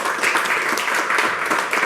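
A studio audience of university students claps during a televised talk show, a short burst of close, even applause with no break.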